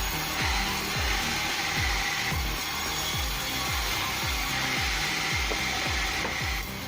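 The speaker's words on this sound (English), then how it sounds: "that bandsaw is ridiculously fast" A fast bandsaw slicing through jackfruit logs, with a steady loud grinding roar and a regular train of low thumps, repeating about twice a second with no pause.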